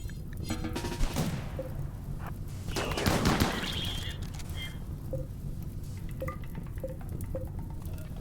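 Gunfire in the RimWorld Biotech colony game during a firefight against a Wendigo and a flame wave, with rapid bursts and scattered single shots, faint crashes and thuds, continuing over several seconds.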